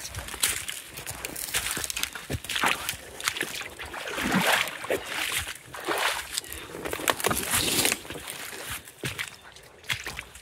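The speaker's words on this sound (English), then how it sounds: "Let's walk into the water." Waders slosh and splash through floodwater in a flooded vegetable garden, uneven wet steps and swishing water up close, with soft rustling between strides.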